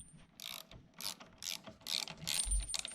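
A ratchet turns a 5/16 Allen bit to loosen bolts on a motorcycle, making quiet, close, clicking bursts of pawl ticks in short repeated strokes.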